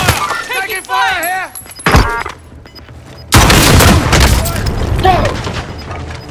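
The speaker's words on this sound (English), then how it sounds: "Taking fire here!" Call of Duty Modern Warfare match: a burst of gunfire and a heavy boom lead into dense, loud battle noise, with a shouted voice and a siren-like warble at the start.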